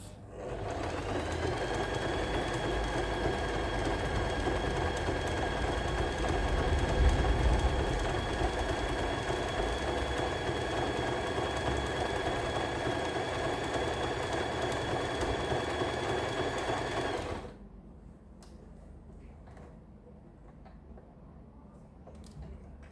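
A Janome TR2018 household sewing machine runs a stretch chain stitch on knit fabric, giving a steady close whirring hum with a faint whine that runs for about seventeen seconds and then stops abruptly, leaving quiet room noise.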